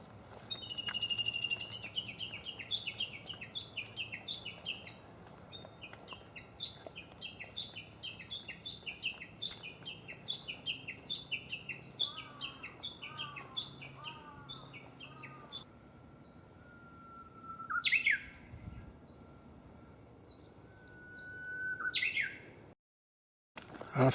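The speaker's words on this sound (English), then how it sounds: "Bird sound." Birds chirp and tweet repeatedly at a distance on Tashirojima, Japan's cat island, with varied calls and trills over a quiet outdoor background, ending in a brief silence.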